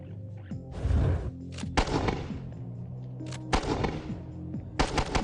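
An XM307 auto-grenade launcher firing in several loud, rapid bursts of heavy reports separated by short pauses.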